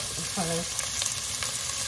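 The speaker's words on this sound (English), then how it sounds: "you want to hear that nice sizzle" Steady hissing sizzle of cabbage frying in olive oil in a pan, close and continuous, with a brief short voice sound near the start and a few small pops.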